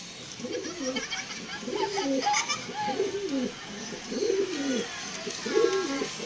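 Several pigeons coo continuously in soft, overlapping rolling calls, close by, with faint background chatter.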